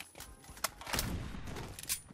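Gunfire from a shooter video game, a few sharp separate shots in close succession at moderate loudness, with no talk over them.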